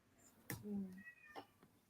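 A house cat gives a single drawn-out meow, close by, with soft talk nearby.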